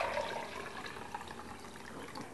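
Coconut kefir liquid is poured, giving a steady, soft splashing and trickling for a couple of seconds with no talk.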